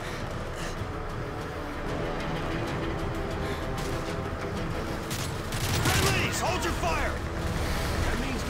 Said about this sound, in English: Hip firing is awful in this game.